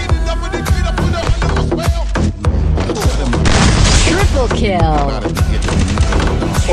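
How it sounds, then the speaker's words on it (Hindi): Loud, dense gunfire in a shooting video game, overlapping shots and booming impacts packed tightly with a steady barrage throughout, including a headshot, with someone talking over the action. "तगारू का अच्छा हेडशॉट"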